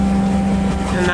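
A sailboat's auxiliary engine motoring away from mountains runs as a loud, steady low drone under wind rush, with a brief voice near the end.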